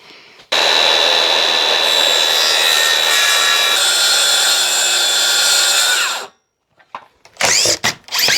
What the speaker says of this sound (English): Now I can only cut to probably about here before I've got to lift the saw out